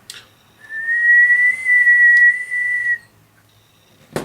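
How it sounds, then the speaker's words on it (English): A person whistles one steady, clear sustained note for about two and a half seconds in a quiet room, close and fairly loud, followed by a brief click. "it's only me whistling"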